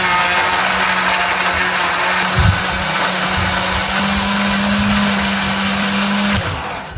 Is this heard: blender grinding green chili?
yes